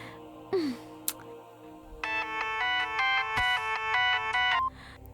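Mobile phone ringtone for an incoming call, a loud bright electronic melody in repeated rising and falling phrases that starts after a few brief knocks and a swoop, then cuts off abruptly.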